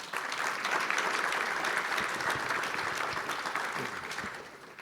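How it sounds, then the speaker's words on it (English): A conference audience applauds its panelists, broad even clapping from many hands that holds steady and then tapers off slightly toward the end. "So I'd like you all to give them an applause"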